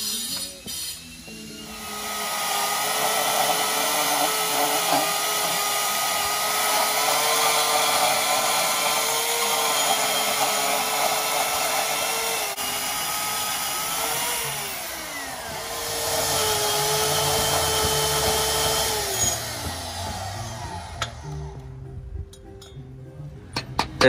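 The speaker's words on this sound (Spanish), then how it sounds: "El cortador." A power cutter slices through metal, a loud steady high-pitched whine and grind held for about twenty seconds, dipping briefly midway, then spinning down to scattered clinks near the end.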